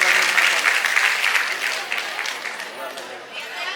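An audience at a prize-giving event applauds the women winners. The clapping is loud and dense, then thins gradually as it fades out.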